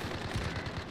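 Rapid bursts of video game gunfire crackle in a fast, continuous volley during a multiplayer firefight in a stairwell, close and fairly steady throughout with no speech over it.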